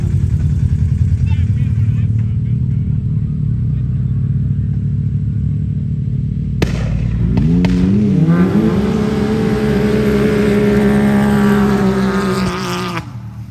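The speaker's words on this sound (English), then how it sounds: "They're going to do a drag race." Stock trucks on 44-inch tires launch into a drag race at an off-road park, engines rumbling at idle before a loud, sudden rev and a rising roar that carries on. People talk over the engine noise.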